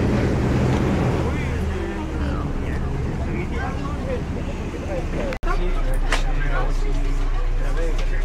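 A passenger boat on the water in Venice, with a broad engine rumble, wind buffeting the microphone and water wash, a brief dropout midway, and people talking throughout.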